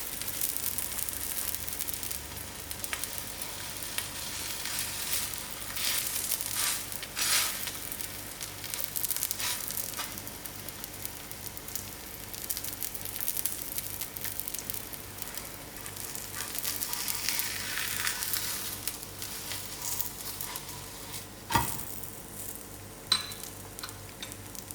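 Roti stuffed with lamb mince frying in oil, a continuous close sizzle and crackle with a few sharper pops near the end, heard alone without talk.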